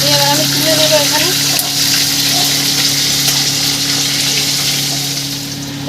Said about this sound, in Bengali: দেখুন ইলিশ মাছের মাথাটা হালকা করে ভেজে নিয়েছি